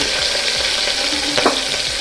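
Chopped onion and curry leaves sizzle and crackle in hot oil for a mutton curry, with a steady close frying hiss and a stirring scrape now and then, and no voices.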